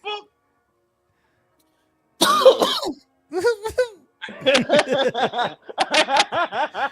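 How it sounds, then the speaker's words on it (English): A rough, throaty cough sounds close up, followed by a series of hoarse coughs and throat-clearing bursts. "Why he coughing like a bear cub taking jabs?"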